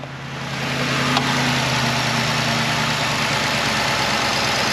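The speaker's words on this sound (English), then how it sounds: "Gonna let it idle for a while and charge the batteries" A Ford F250 with the 6.2L engine idles steadily right after starting, a loud, even, continuous rumble with a constant low hum and no voices.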